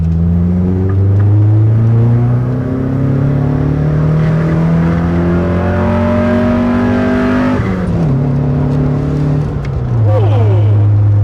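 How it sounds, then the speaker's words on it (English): A 1999 Mitsubishi Eclipse GS Spyder engine with an aftermarket intake revs loudly and continuously up through several gears, pitch climbing and dropping with each shift, close and dominant, with a brief voice over it near the end. "Oh, their intake really brings out the anger in this motor. It's not fast, but it sounds great."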